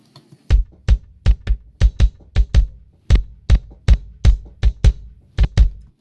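Two layered kick drum tracks hit together in a mixing session, sharp punchy thumps in an uneven groove, often paired in quick doubles, about twenty hits, dry and close with no voices.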